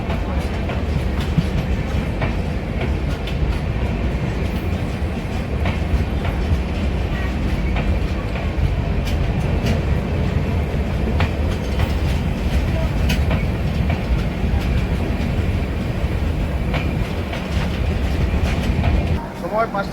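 The 13005 Amritsar Mail express runs on rails with a loud, continuous rumble and rattle of the coaches and repeated clickety-clack over rail joints, heard close up from onboard, with faint voices mixed in.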